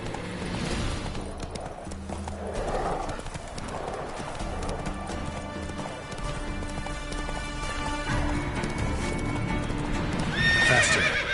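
Horse galloping in the video game Witcher 3, rapid rhythmic hoofbeats continuing throughout with a neigh, under game music and ambient sound.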